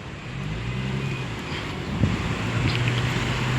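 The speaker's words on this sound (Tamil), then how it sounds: "வரும் வண்டிங்க மேலே வண்டி வந்துக்கிட்டே இருக்குது" Road traffic rumbles past in a steady low drone, vehicles passing close by in a continuous wash of engine and tyre noise with wind buffeting the microphone.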